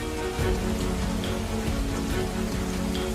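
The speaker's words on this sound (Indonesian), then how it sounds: "hujan tidak berhenti selama beberapa hari" Heavy rain falling steadily for days in a village, a dense, even hiss of drops hitting surfaces with no voices over it.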